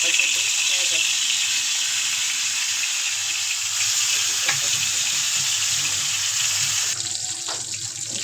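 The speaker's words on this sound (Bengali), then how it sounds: "মাছ ভাজা শেষ" Hilsa fish frying in a pan, a loud continuous sizzle and hiss close up that runs throughout, with faint kitchen clatter beneath.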